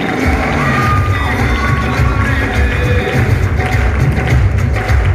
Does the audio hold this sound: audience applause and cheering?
yes